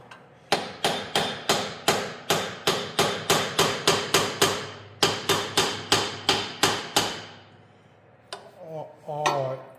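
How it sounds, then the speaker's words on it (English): A claw hammer strikes metal in a steady run of sharp, loud, ringing blows on an abandoned tractor, about two per second, with a short break midway; the blows stop near the end and a brief voice follows. "let's just use a claw hammer"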